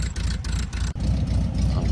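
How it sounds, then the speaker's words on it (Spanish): A 1951 MG TD replica built on a VW base idles steadily, its exhaust giving a close, continuous low rumble with one brief dip partway through. "Aquí podemos escuchar los tubos de escape. Tiene un bonito sonido"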